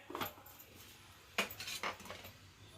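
A small metal plate being handled and greased with ghee, giving a few light clinks and scrapes spaced apart, close and fairly quiet.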